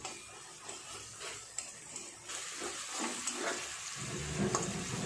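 Bombay duck (lote fish) fries in a pan with a faint, steady oil sizzle and light crackles that grow slightly busier toward the end.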